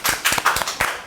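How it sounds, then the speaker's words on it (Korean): Several sharp hand claps in quick, uneven succession, close and fairly loud, from people applauding during a lighthearted Japanese pronunciation lesson. "박수 박수."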